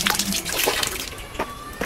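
Water splashes and trickles over fallen mangoes as they are rinsed, with irregular splashes and drips, close and moderately loud.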